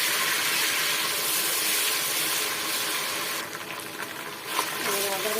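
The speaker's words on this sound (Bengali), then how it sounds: "আদা রসুন বাটাগুলোকে আমি তেলের সাথে সুন্দরভাবে ভেজে নেব।" Ginger and garlic paste fries in oil for a mashed potato and fish dish, a steady hissing sizzle that dips briefly before resuming, with faint kitchen clinks.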